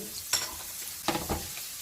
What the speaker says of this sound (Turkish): Şöyle hemen yağın içinde sarımsağımızı bir döndürelim.